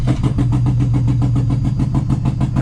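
Toyota 2JZ engine swapped into a 4Runner cranking over, a steady rapid rhythm of starter pulses chugging loudly and close, with no voices.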